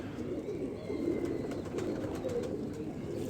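Pigeons held in the hand coo softly, with repeated low gurgling calls close by over a faint background rustle.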